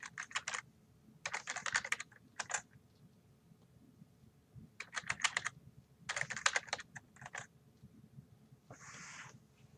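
Bursts of quick keystrokes on a computer keyboard as a username is entered to log in, clicking in short clustered runs separated by pauses, close and crisp over a faint room hum.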